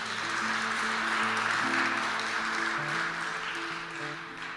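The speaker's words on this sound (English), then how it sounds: "give the whole program a round of applause" Audience applause for a seniors' songwriting program fills the room as a dense, sustained wash of clapping, while low musical tones sound steadily underneath and the clapping eases slightly toward the end.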